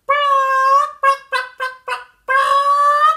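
A human voice imitates chickens clucking, with a long drawn-out call, then four short clipped clucks, then another sustained call, loud and close with no other sound.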